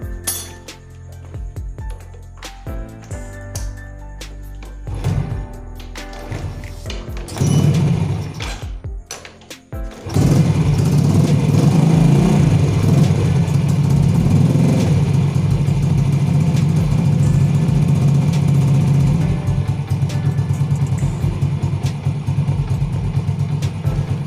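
A Yamaha Vega motorcycle with a rough-running engine is started after reassembly and settles into a loud, steady close idle, after a stretch of metallic clinks and handling.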